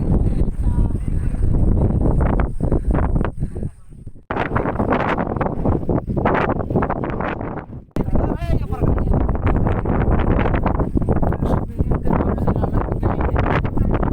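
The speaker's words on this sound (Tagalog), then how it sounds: "Sobrang lakas ng hangin." Strong wind on a mountaintop at sunrise on Banton island, Romblon, buffets the microphone with a heavy, continuous roar, broken by two brief lulls, while a person talks throughout.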